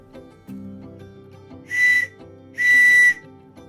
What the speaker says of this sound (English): Use the whistle when necessary.